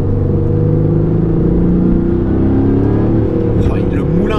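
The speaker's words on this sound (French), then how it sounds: "l'échappement, il est fou. Il crépite, mais il crépite." A 2019 Aston Martin Vantage AMR with manual gearbox drives at speed, its engine note loud and steady and rising in pitch near the end. The exhaust crackles throughout, and a voice talks over the sound.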